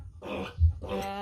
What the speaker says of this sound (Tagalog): Yan po yung gawing inahin baboy.